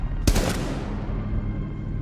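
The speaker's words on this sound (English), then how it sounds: "I'm just shooting at a dead body" A single loud gunshot in Rainbow Six Siege, a sharp crack followed by a ringing decay and low rumble that fades over the next second and a half.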